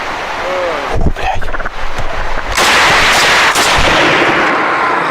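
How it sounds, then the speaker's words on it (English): Several loud gunshots fired in a forest, sharp broadband blasts followed by a sustained rumbling burst of rapid fire, with a brief voice-like sweep near the start. "continued firing shots in self-defense"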